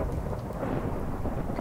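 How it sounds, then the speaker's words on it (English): Rain and rumbling thunder from a Minecraft game world, a low, steady, moderately quiet roar with the patter of rain over it and no talking. "the rain is really not helping"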